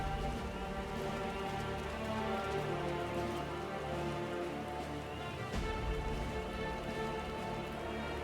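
Steady rain falls throughout a cutscene in the video game Final Fantasy XIV: Dawntrail, a dense continuous patter mixed with dramatic music and no talking.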